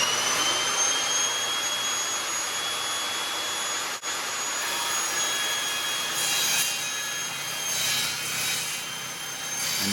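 An Evolution RAGE 5S multi-material table saw slicing through wood studded with framing nails gives a steady, loud whining roar across the whole stretch, with a brief dip near the middle and slight swells toward the end.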